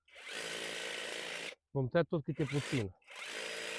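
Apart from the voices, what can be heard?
power tool cutting an ornamental shrub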